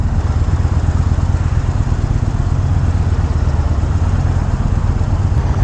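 Yamaha Bolt R-Spec 2018 cruiser motorcycle engine on a demo ride, a steady, loud, low throbbing rumble with rapid even pulses and constant wind noise, no pauses.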